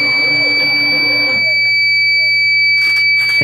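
A DIY lithium UPS inverter sounds a steady high-pitched low-voltage warning tone continuously, with a low hum underneath and some brief background noise near the end.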